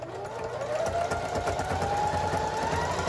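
Sewing machine stitching a zigzag seam on a jellyroll rug made from fabric strips, a steady continuous motor whir with rapid needle rhythm, close and alone throughout.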